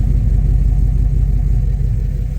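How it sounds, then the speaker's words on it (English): A Ram pickup truck's exhaust rumbles deep and loud close by, a steady low growl with slight pulsing and no talking. "I love how the exhaust sounds."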